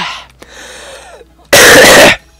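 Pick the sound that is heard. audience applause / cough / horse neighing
cough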